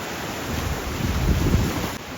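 Sea waves roll in at Palolem beach in South Goa, a steady low surf rumble swelling slightly toward the middle, heavily mixed with blustery wind buffeting the microphone, with no voices.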